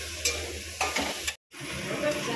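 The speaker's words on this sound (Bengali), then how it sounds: "আচ্ছা এবারে ডিমটা ভাজা হচ্ছে এই মশলার সাথে এটা ভাজা হবে" Eggs frying in a pan with masala, giving a steady close sizzle with a few scraping stir strokes and a brief complete drop-out partway through.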